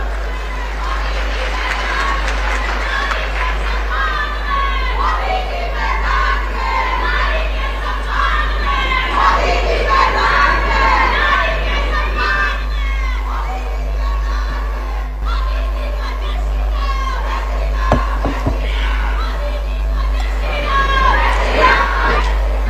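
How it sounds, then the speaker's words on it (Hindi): Large crowd at a political rally in Himachal Pradesh applauding and cheering, many women among them, a sustained roar of clapping and shouting with a low hum underneath and a speaker's voice over it at times. "देखिए, सबसे ज्यादा तालियां हमारी बहनें बजा रही है।"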